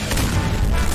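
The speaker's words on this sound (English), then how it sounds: "Sneasel, Ice Shot!" Sneasel's Ice Shot attack hits in a Pokemon anime battle, a loud, brief booming blast with a broad crash of noise lasting about a second.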